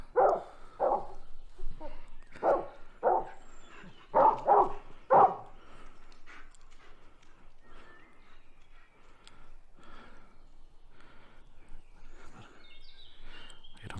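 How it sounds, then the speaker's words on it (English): Dogs bark outdoors in a horror-film setting, a rapid series of loud, sharp barks for several seconds before they fade into quieter, scattered yelps and ambient noise. "Sounds like dogs."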